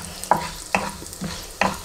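Fenugreek seeds fry in a pan for a homemade spice powder, with four sharp scraping stirs at roughly even intervals over a soft continuous sizzle, close up and with no talking.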